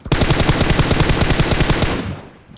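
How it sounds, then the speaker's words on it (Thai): Loud, continuous automatic gunfire from a video game rattles rapidly and evenly for about two seconds, then cuts off and fades. "เสียงคนยิงคนอื่น"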